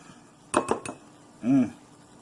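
A spoon clinks three times against a bowl of venison chili topped with sharp cheddar cheese and sour cream, followed by a short scraping stir, close and fairly quiet with no talk.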